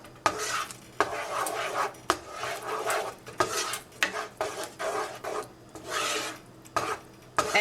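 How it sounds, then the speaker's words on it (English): Cheese is stirred into bechamel sauce for mac and cheese, with repeated rhythmic scraping strokes of a utensil against the pot and sharp clinks at the ends of strokes, close and fairly loud, no talking. "So I'm gonna go ahead and add some cheese."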